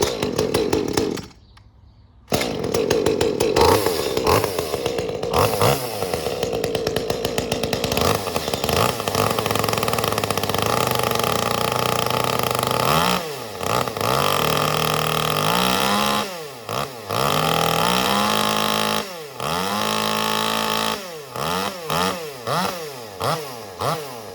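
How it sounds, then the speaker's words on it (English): An Echo 2511t top-handle chainsaw fitted with an 8-pin sprocket starts after a short pull, idles, then revs up and down in repeated loud bursts, the high whine climbing and dropping close by. "It's bad when you don't know how to start your own saw."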